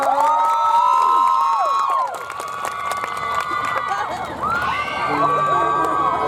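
A crowd at an outdoor jazz concert in Ayutthaya cheers, whoops and applauds to welcome the singer, loud and close, with high shouts and whistles rising over the clapping throughout.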